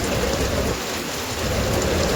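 Heavy, constant rain pouring down during a storm in Morbi, in a dense wash of noise, with a low rumble underneath like distant thunder.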